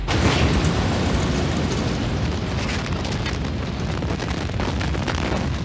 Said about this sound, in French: Sur le front rocheux, les 190 charges explosent